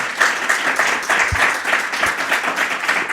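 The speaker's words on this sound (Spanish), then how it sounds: "les pido que si le dan un fuerte aplauso" Loud, steady applause from a lecture audience at a conference on antivenoms, continuous dense clapping held at an even level with no talk.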